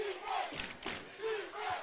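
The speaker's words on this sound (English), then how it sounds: "Sylvan Hills crowd is into it now." High school football crowd at Sylvan Hills Bears versus Benton Panthers game roaring and yelling in swelling waves from the stands, loud and continuous with no talk over it.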